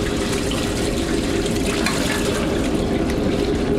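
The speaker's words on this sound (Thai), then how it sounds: "ตัดน้ำมัน น้ำมันร้อนๆนี่นะครับราดไปเลยนะครับ" Hot oil poured down a food truck drain to flush out debris, a steady continuous rushing pour like running liquid, close and unbroken, without speech.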